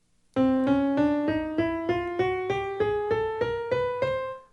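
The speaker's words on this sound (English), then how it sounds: "If you play all 12 steps without skipping any, you'll be playing what's commonly called a chromatic scale" A plucked string instrument plays a chromatic scale, twelve evenly spaced notes, each a step higher than the last, in a steady ascending run.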